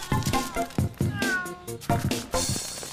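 Several cats meow in loud, overlapping calls, one after another, with a stretched caterwaul among them and a voice briefly mixed in.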